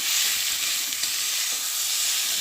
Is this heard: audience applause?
no